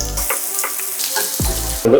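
Ginger and garlic sizzle in hot coconut oil in a pan, a loud close crackling fry that runs throughout, with brief stirring scrapes and a clatter at the end.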